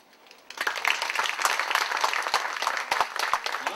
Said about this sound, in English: By round of applause, how many people want to see that?